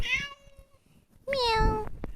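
Two clear cat meows, the second longer and louder, separated by a short pause; close and distinct with no talking.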